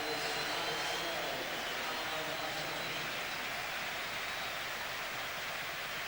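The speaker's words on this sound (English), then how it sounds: "Just listen to this reception." Broad, steady roar of a football stadium crowd at Wembley cheering as a substituted player leaves the pitch, a dense, continuous wash of noise with no distinct voices standing out.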